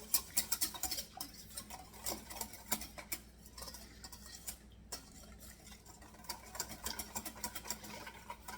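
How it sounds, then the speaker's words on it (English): A whisk mixes fajita seasoning into a bowl, giving a quiet, rapid, rhythmic ticking and tapping that runs steadily throughout at close range, with no one talking. "And I'm going to whisk it again."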